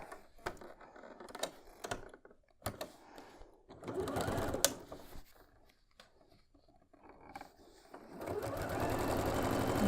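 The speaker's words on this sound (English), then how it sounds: "Sew down to this first section where my seams are nested together." A sewing machine stitches quilt block seams on a pinwheel star block, with short bursts of rapid mechanical whirring separated by pauses and handling clicks, then a longer steady run at the end.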